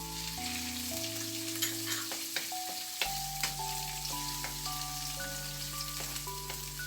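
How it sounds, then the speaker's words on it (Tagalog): Garlic and onion sautéing in a pan for adobong sitaw, a continuous dense sizzle with scattered utensil taps and background tonal hum, no voices. "isusutay natin ang ating garlic. Idagdag na rin natin ang ating onion"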